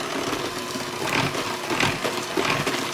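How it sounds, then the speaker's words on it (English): Electric stand mixer running steadily while blending gingerbread cookie dough, a continuous motor whir with faint rhythmic scraping pulses throughout, close and moderately loud. "turn the electric mixer back on"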